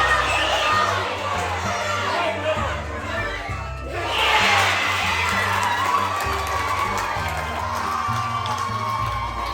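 Locals and children cheer and shout at a youth hurling game in Ireland, a lively crowd roar that swells midway and keeps going with whoops over a low rumble.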